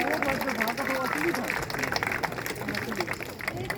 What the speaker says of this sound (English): We can give her a round of applause for that